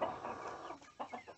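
A hen on a farm gives a few short, soft clucks close by, ending in a quick run of pulsed notes.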